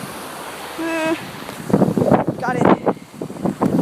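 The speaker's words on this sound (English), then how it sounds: "it's super windy." Strong wind gusting outdoors near a waterfall's edge, rumbling and buffeting the microphone in bursts, with a person talking briefly over it.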